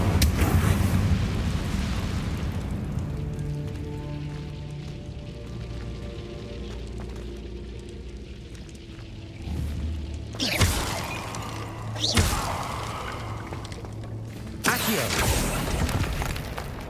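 In the Hogwarts Legacy video game, the Incendio fire spell goes off in several sharp whooshing bursts with booming impacts over a low rumbling game ambience, and no voices are heard.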